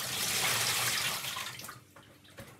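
Tap water runs into a sink or bowl while sea moss is washed, a loud splashing hiss that fades out after about a second and a half, leaving faint drips and handling sounds.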